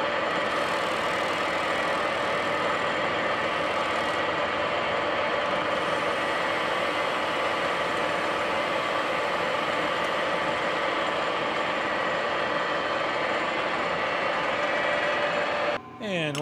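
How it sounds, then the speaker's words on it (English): A lathe runs steadily while facing off a steel part for a steam-powered sawmill friction clutch rebuild, giving a constant close mechanical drone and whine with a brief dip right at the end. "All right, let's fire up the lathe. The lathe will come in here and face off this face here."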